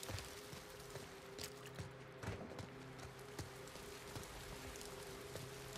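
Steady rain in The Last of Us Part II, in a forest, patters and drips across a surface, with occasional louder drops and faint footsteps, a continuous wet hiss with no talking.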